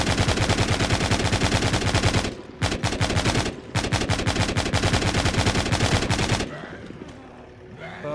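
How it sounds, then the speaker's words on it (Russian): Automatic gunfire rattles loudly in The Walking Zombie 2 as zombies are shot, with long rapid bursts broken by a few brief pauses before the shooting stops. "Надо в бошки им стрелять."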